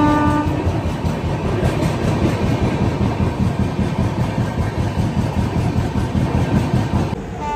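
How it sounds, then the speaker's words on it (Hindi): Dibrugarh Rajdhani Express passenger train, 2nd AC coach, running through Ghazipur City station without stopping; a loud, steady rumble of wheels and clattering carriages fills the whole stretch with no talk. "अपनी ट्रेन गाजीपुर सिटी को स्किप जो है कर रहा है।"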